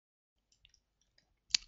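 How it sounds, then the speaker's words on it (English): A single close, crisp click of the R key being pressed on a computer keyboard, brief and isolated in near silence with a few faint ticks before it. "we can press R on the keyboard"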